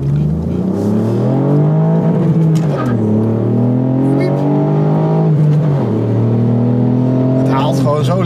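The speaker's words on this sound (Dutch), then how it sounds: "Ik vind het geluid van die driecilinder ook zo leuk." Three-cylinder engine of a Ford Fiesta ST driving and revving, its tone climbing and dropping through gear changes from inside the car, with people talking over the steady drone.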